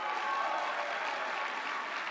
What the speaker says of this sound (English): let's get some applause for the tech team